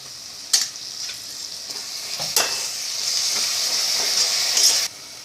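Onions sautéing in a pan with ground mint and green chilli paste, a steady close sizzle with a few sharp scrape-and-stir clatters, cutting off near the end.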